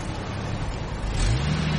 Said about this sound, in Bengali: ঘড়ঘড় শব্দ করে ইঞ্জিন গতি নিল।